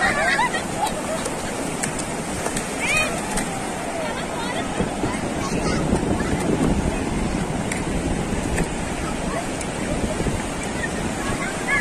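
Sea waves wash onto a beach near the Ganpatipule road, a broad surf roar mixed with wind buffeting the microphone, with people talking over it the whole time.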